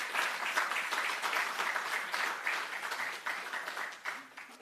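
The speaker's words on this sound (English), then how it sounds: "please put your hands together, a round of applause to all the graduates here" A round of applause for graduates at an awards ceremony, with dense, steady clapping from a crowd filling the whole stretch and tapering slightly toward the end.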